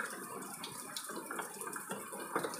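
Water drains out of a washing machine being repaired, with a steady watery rushing and trickling that holds throughout at a moderate level and carries no talk.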